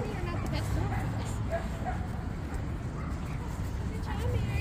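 A dog whimpers and gives small yips over a steady background, with people talking nearby throughout.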